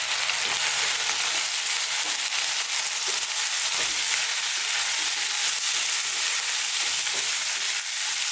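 Onions and garlic ginger paste sizzle in a pan over high heat, a loud, constant bright crackle with occasional soft knocks of stirring, and no talk.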